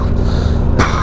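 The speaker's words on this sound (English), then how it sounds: "Sorry about coughing so much." A man coughs from pollen irritation, a harsh, close, throaty burst with a rough rumbling texture ending in a sharp exhale, loud and alone.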